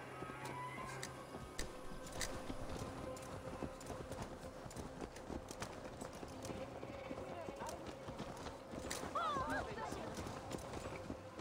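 Horse hooves clip-clopping at a steady walking rhythm in the video game Assassin's Creed Valhalla, fairly faint beneath someone speaking, with a brief whinny-like cry near the end.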